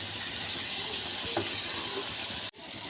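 Kohlrabi curry with ground spices and tomato fries in a pan for a rohu fish dish, giving a steady, close sizzle with a light stirring clink midway and a brief dropout near the end.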